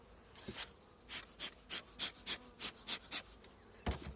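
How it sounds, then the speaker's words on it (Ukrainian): Honeybees buzz at a hive during a spring inspection, about a dozen short, loud buzzing bursts in a quick irregular rhythm as bees fly close past, with quiet gaps between them and no voices. "Ну, бжілки, є якась щілина, зразу в ту щілину забивається."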